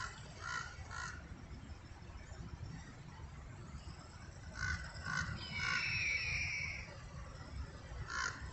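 A crow caws a few times at a distance, with short harsh calls near the start and again later, over a low, constant engine or traffic rumble that is faint throughout.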